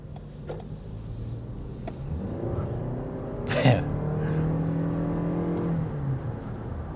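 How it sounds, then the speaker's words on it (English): Lexus NX 450h+ all-wheel-drive hybrid accelerating hard with a rising engine and motor whir, a brief sharp burst midway as the tires break loose, moderately quiet from inside the cabin. "Broke the tires loose there."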